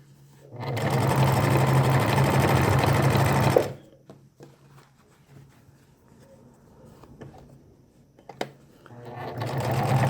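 A sewing machine topstitching along skirt seams runs in a close, steady burst for a few seconds, then stops. Quieter handling clicks and rustles follow before the motor starts up again at the end.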